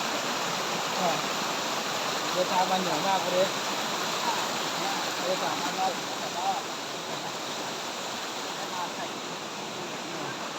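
Steady rushing water of a waterfall at a nature campsite fills the scene, a broad continuous roar with a voice speaking briefly over it.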